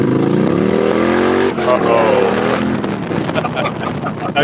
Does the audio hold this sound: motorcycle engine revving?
yes